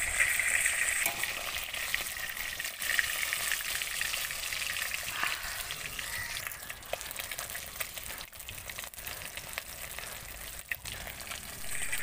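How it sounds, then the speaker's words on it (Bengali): Pieces of rui fish frying slowly in hot oil in a pan, a steady soft sizzle with crackle running throughout, close and unbroken. "দেখো এরকমভাবে এই যে আস্তে আস্তে করে ভাজা হবে।"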